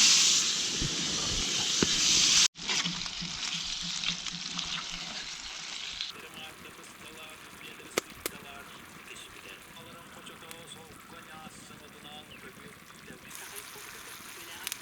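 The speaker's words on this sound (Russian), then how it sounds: "Сейчас буду жарить их." Duck giblets go into a frying pan with a loud hiss for the first couple of seconds. The sound then settles into a quieter, steady sizzle through the rest of the clip.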